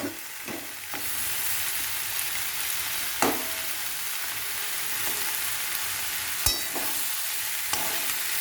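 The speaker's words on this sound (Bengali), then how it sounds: "এবারে আমি এই গোবিন্দভোগ চালটা দিয়ে দিচ্ছি।" Soaked Gobindobhog rice cooks in a pan for banana-stem curry (thor ghonto): a steady loud sizzle with a few sharp scrapes and clinks as it is stirred.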